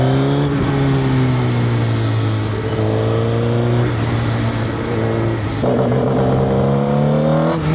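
A Suzuki GSX-R1000 motorcycle revs hard at full throttle in second gear, a loud, steady engine roar with rising and falling pitch sweeps, close to the microphone with no talking.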